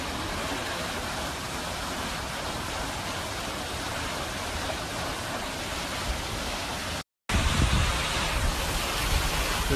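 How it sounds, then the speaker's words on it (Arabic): Svartifoss, the Black Waterfall in Iceland, pours in a steady, dense roar of falling water, broken by one brief gap of silence before the rush resumes. "هذا الشلال الأسود سفارة فوس."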